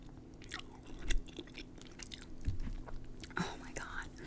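Close, wet chewing and soft biting of Olive Garden fettuccine alfredo, slow repeated mouth sounds with a faint crunch, with quiet breathy murmurs in between.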